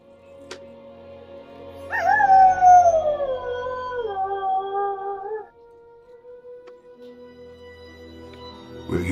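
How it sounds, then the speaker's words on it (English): A long, wavering creature howl in Lord of the Rings Online rises and slowly falls over a low droning background, then fades, leaving a quiet hum. "That howling sound has been spooking the horses and making the men uneasy."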